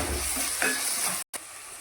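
Tomatoes are stirred into ginger and garlic frying in a pan for a Mangalorean egg sukka, giving a steady sizzle with scraping stir strokes and a brief dropout near the end.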